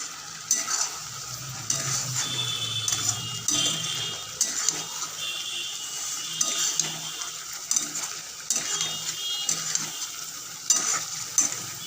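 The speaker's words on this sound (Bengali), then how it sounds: "ভালো করে মশলাটাকে কষাতে হবে" Spice masala for chicken makhani sizzling in a pan while a utensil stirs and scrapes it steadily, with repeated clinks of metal against the pan and no talking.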